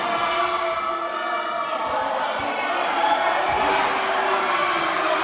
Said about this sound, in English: This crowd is irate at the actions of the Foreign Legion